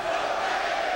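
A basketball arena crowd at the 2006 America East Championship game between Albany and Vermont sings as one loud, sustained, roaring mass of voices.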